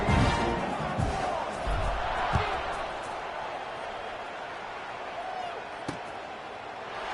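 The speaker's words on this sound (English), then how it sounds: "this crowd is buzzing after that last score" A stadium crowd roars and buzzes in the college football video game NCAA 26 after a score, a dense continuous rumble that slowly fades a little, with a few dull thuds and a commentator talking over it.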